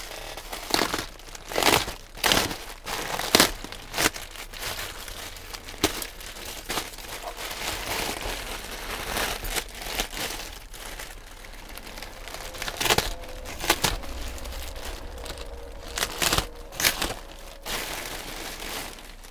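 A plastic bag crinkles and rustles in sharp, irregular bursts while a double-bagged, taped Dell computer is unpacked, the crackling continuing close and loud throughout with no talking.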